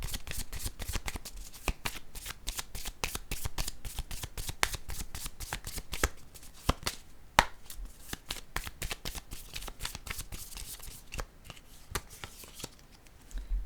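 A deck of cards is shuffled close up, with repeated crisp riffles and snapping flicks in an uneven rhythm over several seconds, no talking.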